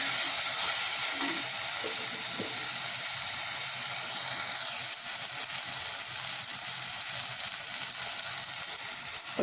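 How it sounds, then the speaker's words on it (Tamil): Tomatoes and onions sauté steadily in a pan for chickpea kuzhambu, giving a continuous close sizzle and hiss with occasional stirring clinks and no talk. "நல்லா மசிச்சு விட்டுக்கணுங்க தக்காளி எல்லாம். நல்லா வதங்கிடுச்சுங்க."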